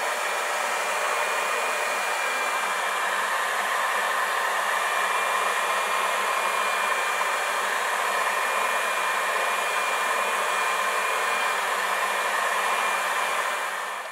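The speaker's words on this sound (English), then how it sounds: "If you're using a blow dryer with a good heat setting on it" A hair dryer on a heat setting warms a vinyl car headliner in a first-generation Camaro/Firebird, blowing continuously with a steady, even roar, close by and unchanging for the whole stretch, with no talking.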